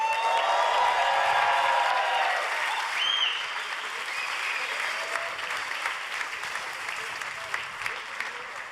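A crowd applauds at the Bugatti Tourbillon unveiling, giving dense, sustained clapping at moderate distance that slowly thins. Faint cheers and a few voices rise over it.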